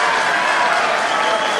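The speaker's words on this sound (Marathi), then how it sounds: "टाळ्या वाजवा एकदा जोरात" Applause from a large crowd at a political rally in Nashik, a dense, steady roar of clapping throughout, loud and unbroken.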